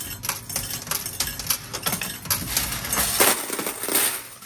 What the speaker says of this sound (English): let's get Ukulele Sherry out of this coin pusher